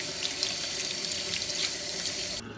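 A goose feather pastry brush is rinsed under a running kitchen faucet, a steady close splash of tap water that stops abruptly at the end.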